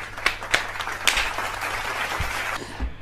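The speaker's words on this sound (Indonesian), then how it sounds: "Tepuk tangan dong" An audience applauds at a magic show, a short burst of scattered, moderately loud clapping with a few sharper claps standing out.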